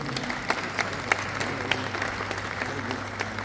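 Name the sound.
applause at welcome ceremony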